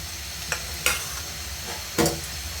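Potatoes, chopped onion, garlic paste and vegetable stems fry in a pan with a dense, close sizzle, broken by a few sharp scrapes of a spatula against the pan.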